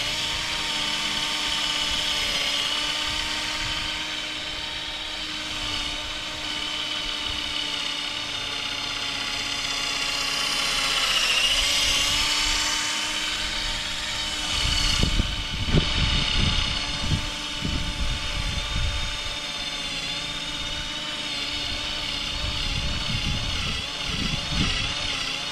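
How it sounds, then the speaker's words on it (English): A power drill polishing car paint with compound whines steadily nearby, its pitch rising and dipping as it works, with some bumpy handling noise partway through. "let's get back with our drill and"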